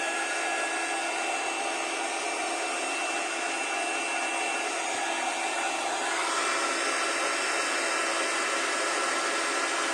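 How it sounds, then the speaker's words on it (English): A heat gun used for heat embossing blows with a steady, loud, hissing whoosh that stays constant throughout, close by and with no voices. "I'm going to heat emboss it so it'll get a little bit noisy."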